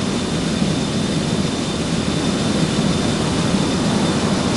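An F-15 jet flies unarmed in a flight game, its engine giving a steady, loud, continuous roar with a faint high whine throughout.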